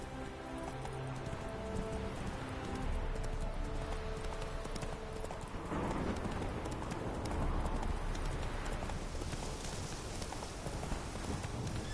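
Roach the horse gallops in The Witcher 3 video game, a steady, loud clip-clop of hooves that runs continuously throughout, with a soft rain-like hiss in the background.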